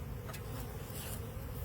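A low, steady hum of honeybees at an open hive that is raising many drones, a soft continuous drone with no talking.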